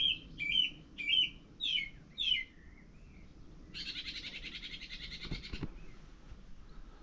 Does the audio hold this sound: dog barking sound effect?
no